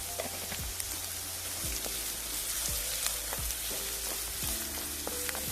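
Sliced onions sizzle steadily in a hot pan, salted for a Kerala-style prawn roast, with a dense continuous frying hiss and repeated soft scrapes of a spoon stirring, close and with no talking.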